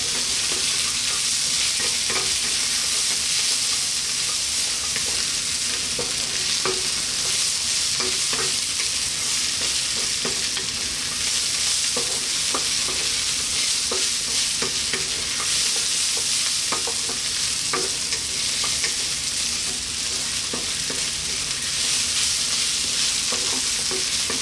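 Cashews frying in a pan for a vegetable biryani give a steady, loud, dense sizzle with a continuous crackle, interspersed with soft stirring scrapes, and no voices throughout.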